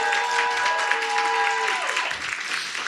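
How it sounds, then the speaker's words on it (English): At a teachers' professional learning session, an audience claps steadily for a corporate partner, with held musical tones sounding beneath the applause for the first two seconds. "give a round of applause to our Walgreens partner."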